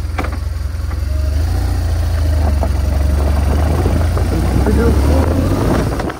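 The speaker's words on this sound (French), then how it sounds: "Elle démarre au quart de tour la bête." A freshly started BMW 1200GS motorcycle idles nearby in a steady, deep, even rumble that holds throughout, with some talking and a few clicks over it.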